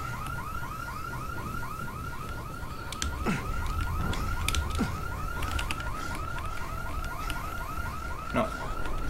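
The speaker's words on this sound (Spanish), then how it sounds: "No puedo apagar esta alarma." A car alarm in Dead Island blares continuously with a rapid warbling siren cycle, steady and fairly loud, while faint thuds and game noises sit underneath.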